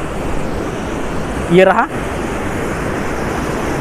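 Heavy water rushing down at the Pandu Pudding waterfall in Khunti, Jharkhand, a steady broadband roar throughout, with a voice speaking briefly over it.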